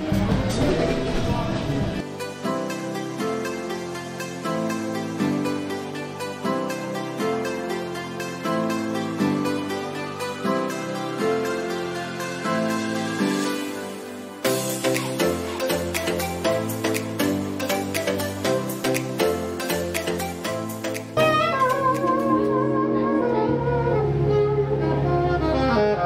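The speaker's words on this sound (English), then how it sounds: "So if you can hear in the background, it's more of a like live music street." Busy live music from bars on Bourbon Street fills the space continuously, layered melodic lines and steady rhythm with a crowded, reverberant feel, no clear talking over it.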